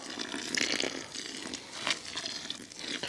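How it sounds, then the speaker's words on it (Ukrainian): Water is poured into coarse-grained fishing groundbait for feeder fishing on a river, moistening the mix; soft, close splashing and trickling sounds come in brief bursts with no talk. "Зараз ми її зволожимо, дамо час, щоб вона трошки втягнула в себе воду."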